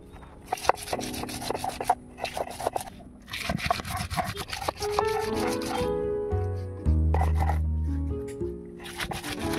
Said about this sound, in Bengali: এবারে পেঁয়াজ বেটে নেব।